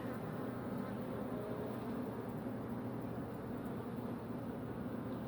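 Honey bees hum steadily at a small garden hive, a continuous, even drone that stays close and fairly faint with no talking.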